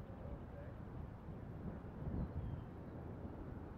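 Wind gusts steadily across an open field where small UMX model planes such as a P-40 and Corsair are flown, a broad low rumble that swells around the middle, with faint voices nearby.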